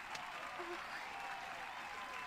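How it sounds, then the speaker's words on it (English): In the Detective Pikachu video game, an audience applauds with a faint, steady crowd clapping that lasts the whole stretch without pause, with no one speaking over it. "Clap harder."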